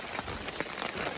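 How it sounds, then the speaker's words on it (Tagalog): Rain falls steadily at a building site where colored concrete stucco is being applied, a dense, close hiss with scattered drop taps and no talk. "Wala, umulan eh."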